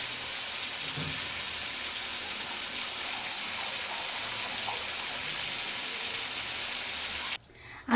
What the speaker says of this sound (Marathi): वांग शिजण्यासाठी त्याच्यामध्ये मी एक अर्धा ग्लास पाणी टाकले